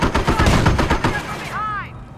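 Dense, loud rifle and machine-gun fire crackles in Company of Heroes during a Normandy battle, rapid overlapping shots that thin out toward the end, where a brief ricochet-like whine rings.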